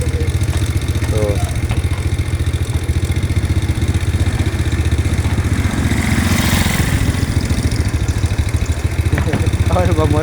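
A motorcycle engine idles steadily and close by on a village street in the Sundanese countryside, a continuous rumbling chug for the whole stretch, with faint voices in the background.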